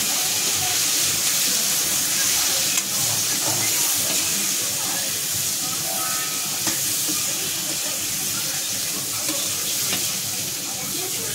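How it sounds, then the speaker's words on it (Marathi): Eggplant fries in a pan with yellow masala, giving a loud, steady, dense sizzle and hiss that runs unbroken throughout, with faint clinks of stirring. "पाच मिनिटं याला असं फ्राय करून घ्यायचं."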